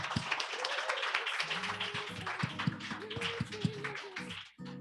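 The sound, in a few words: audience applause, clapping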